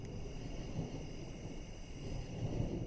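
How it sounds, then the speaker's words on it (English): An approaching thunderstorm in the video game Three Fourths Home gives a faint, continuous low rumble, like distant thunder, swelling gently near the end with no talk over it. "Sounds like a storm coming in."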